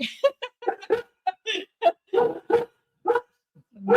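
Dogs bark indoors at home during a live stream, giving roughly a dozen short, sharp barks and yips in an uneven burst, close and fairly loud with brief gaps between them.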